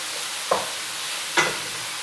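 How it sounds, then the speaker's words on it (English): Beef frying with onions in dissolved anchovy oil is stirred in a pan, giving two brief scraping stirs about a second apart over a low, steady sizzle. "And the beef is caramelizing as well. And we stir, stir,"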